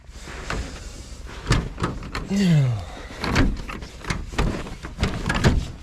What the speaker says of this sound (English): All right, that door won't open.